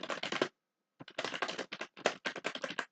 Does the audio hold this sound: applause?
no